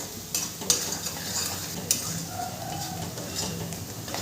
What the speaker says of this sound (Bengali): পেঁয়াজ রসুন ভালো করে ভাজা ভাজা হয়ে গেছে